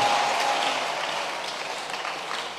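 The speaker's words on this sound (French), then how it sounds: "Alors tu peux acclamer fortement Jésus" A church congregation applauds and cheers loudly for Jesus, a dense, steady wash of clapping sustained throughout without any clear speech.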